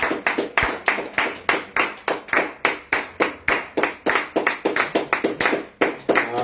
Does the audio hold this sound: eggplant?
no